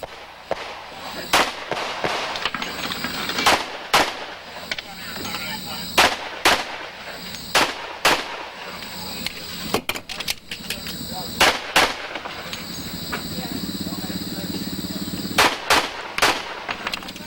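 Pistol shots ring out at computer-controlled targets during a 1990 USPSA national championship stage, sharp loud cracks fired singly and in quick pairs across the run, with crowd and announcer voices murmuring underneath.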